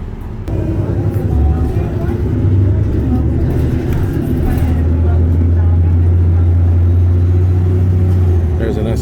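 Steady low engine rumble of a hybrid STL city bus riding route 151 in Laval, a continuous drone with road noise and a shift in pitch partway through.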